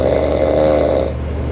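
Loud, close snoring from a sleeping adult, a single long rasping inhalation lasting about a second that fades into quieter breath, with no talking.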